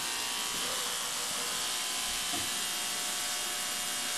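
A free-rotor asymmetrical capacitor thruster runs flat out at full speed, giving off a steady, faint, unbroken hiss and whir with no pauses.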